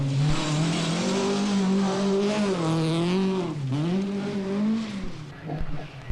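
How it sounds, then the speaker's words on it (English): Vauxhall Chevette rally car racing flat out on a forest special stage at Weston Park in the 1981 World Rally Championship, a loud sustained engine note rising and falling through gear changes, close by and alone. "But heading the world's best on the opening special stage at Weston Park is Britain's top hope on the event, Tony Pond, in his Vauxhall Chevette."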